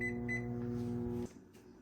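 A microwave oven heating tortillas topped with cheese gives off a steady mechanical hum and drone, with a couple of faint high beeps early on, then the hum cuts off abruptly near the end.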